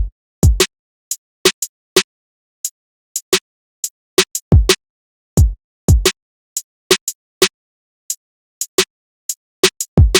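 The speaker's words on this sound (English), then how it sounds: "Then I went ahead and layered some drums," Layered drums from a vintage RnB sample beat play alone in a steady loop, punchy kicks and crisp snare or clap hits on a sparse, regular rhythm, close and fairly loud with no voices.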